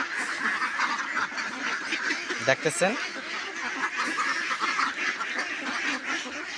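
A flock of two-month-old ducks quacks steadily while being fed rice paddy, a busy chorus of overlapping quacks close by with a louder burst partway through, under a person talking.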